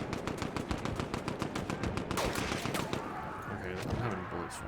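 Video game gunfire in Battlefield 1, with a steady stream of rapid machine-gun shots, close and loud, followed by heavier blasts and continued shooting.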